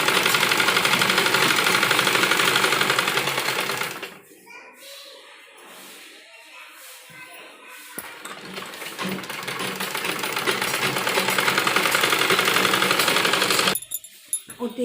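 A sewing machine stitches umbrella frock fabric in loud, steady whirring runs, stopping briefly in the middle before starting again.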